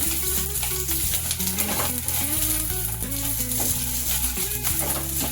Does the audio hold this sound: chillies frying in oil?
yes